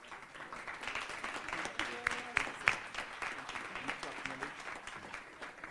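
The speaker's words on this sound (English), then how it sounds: "big hand of applause to Hector, the motivator" An audience at a youth entrepreneurship awards gala gives a round of applause, moderate and fairly distant clapping with a few sharper nearby claps and some voices underneath.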